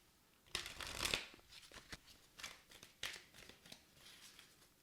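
Tarot cards being shuffled up close, a quick riffle followed by a string of softer, irregular card slaps and slides, quiet and without talk.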